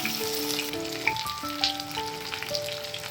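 Food sizzles steadily as it is stirred in a frying pan, with a melodic musical tune playing over the continuous crackle.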